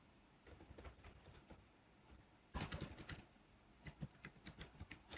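Python code being typed on a computer keyboard: quiet, steady clicking keystrokes with a louder, denser burst of typing partway through, heard close and alone.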